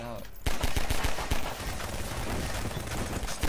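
Rapid video game gunfire shooting at boxes, bursts of sharp shots starting abruptly after a quiet moment and continuing densely, loud and close, with a voice speaking partly under the shooting.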